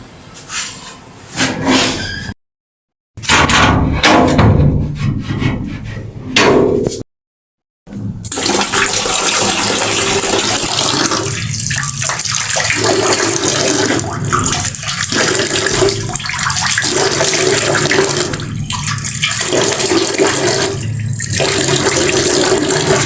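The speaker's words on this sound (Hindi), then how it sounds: "मोटर चला देते हैं ताकि पानी फ्रेश है भरन" Water gushing steadily from a household motor pump pipe into a container, loud and close, with a brief cut-off early on before a long, continuous flow of splashing water.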